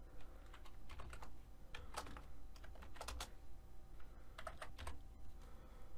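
Computer keyboard typing code, quiet close-up key clicks in uneven bursts with short pauses between groups of strokes, a faint low hum beneath.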